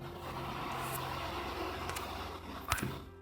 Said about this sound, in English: nowadays it's the rain plus the traffic sound also